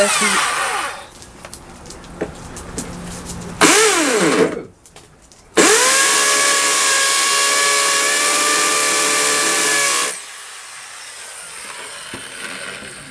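An old Black & Decker power drill, at least 25 years old, is used while fitting a wall-mounted hose reel. A few short bursts lead into a loud, steady motor whine lasting several seconds, which then cuts off.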